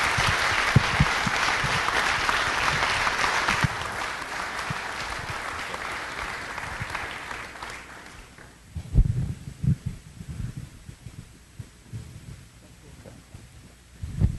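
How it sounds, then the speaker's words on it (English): Broad applause from the audience at a city council meeting swells at the start, then fades after several seconds into scattered handling noises and quiet room sounds. "Give him a round of applause as he makes his way up here."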